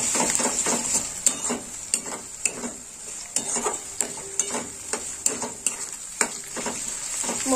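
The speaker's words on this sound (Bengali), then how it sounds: "মশলাটা একটু ভাজা হবে" Garlic and ginger paste masala sizzles in a pan with a steady bright hiss, while a spoon scrapes and taps against the metal in regular strokes as it is stirred.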